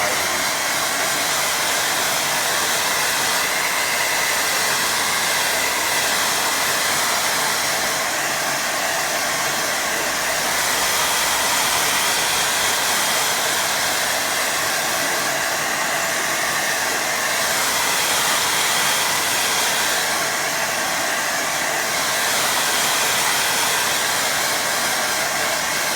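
A hair dryer blows steadily over wet watercolour paint during glazing work, a close, continuous rushing whoosh that lasts throughout without a break.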